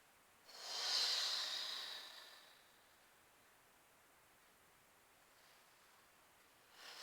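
A single slow breath drawn in through the nose during a gentle Pilates exercise, a soft airy hiss close to the microphone, followed by quiet and a faint second breath at the end.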